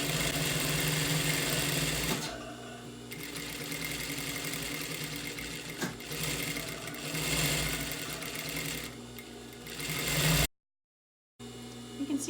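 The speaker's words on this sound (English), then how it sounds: "I'm going to do one and you can watch" Sewing machine stitching a gathered ruffle for a ruffle top, a steady close mechanical whir running in several bursts with brief pauses between them and no talking.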